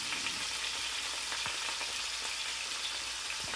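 Fish frying in a stainless steel pan makes a soft, continuous sizzle with an occasional faint click, fairly quiet and with no talk.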